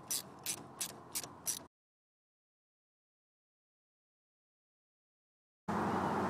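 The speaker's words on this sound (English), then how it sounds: "with my 6mm socket, I will start removing all of 3 of the hose clamps" A ratchet with a 6mm socket clicks off radiator hose clamps on a BMW E34 in about five quick, close bursts, followed by several seconds of silence and then a sudden broadband rush of noise.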